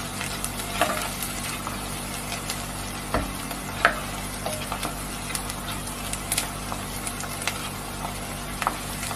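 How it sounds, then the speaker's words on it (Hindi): Onions sizzle and fry in a pan after ginger, with steady crackling and faint scrapes of stirring throughout, quiet and close. "प्याज को भूनते हुए हल्का ब्राउन करेंगे।"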